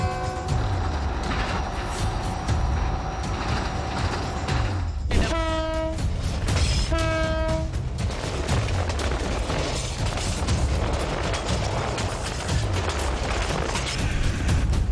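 A high-speed train in a mountainous region roars past, striking a large cow on the tracks, with two loud horn blasts over a continuous heavy rumble and rattle.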